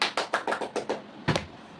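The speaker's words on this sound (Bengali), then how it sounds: "হাততালি দাও, হাততালি দাও সবাই" A small group clapping along at a panipuri eating challenge, a quick series of about seven sharp claps close by, then a pause and one last burst.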